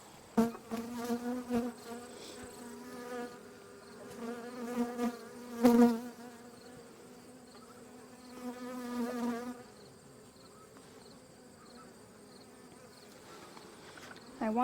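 Bees buzz around a hive in the early afternoon, a steady droning hum with several louder swells as individual bees fly close, interrupted by a few sharp clicks and knocks.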